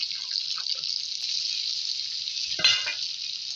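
Pork with ginger and garlic fries in a pan, a steady bright sizzle throughout with a brief louder burst and clatter near the end, no talking.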